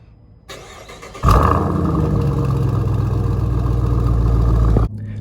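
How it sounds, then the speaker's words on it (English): A Jeep Trackhawk fires up with a starter crank, then a sudden loud engine catch settling into a deep, steady idle rumble up close before cutting off abruptly. "Now guys, we're going to start it up and take it on a drive"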